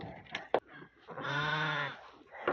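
Bagot goat kids, the breed with big floppy ears, bleat in a farm pen: a short cry, then one long wavering bleat close by, with another call starting at the end.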